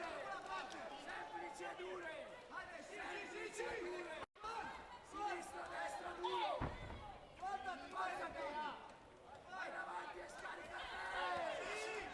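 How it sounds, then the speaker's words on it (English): Arena crowd at a Colosseum Tournament X women's WAKO Pro kickboxing title bout, Cristiana Mongol against Cristina Caruso, chattering and murmuring steadily throughout under close commentary, with a sharp slam-like thump partway through. "Crowd getting into this one now."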